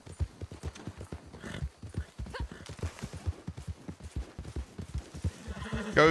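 A horse gallops in the video game Red Dead Online, sounding as rapid rhythmic hoofbeats that run steadily throughout, with a brief whinny-like noise near the end and no talk over it.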